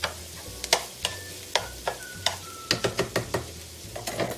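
Meat sauce for lasagna sizzles in a pan while a utensil stirs and scrapes through it in a steady series of sharp clicks. Near the end the clicks come faster, with a quiet frying hiss underneath throughout.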